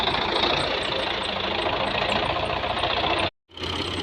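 The engine of a Russian model 15 tractor runs at a mung bean harvest, a loud, steady knocking drone close by that cuts out briefly near the end before resuming, with no talking.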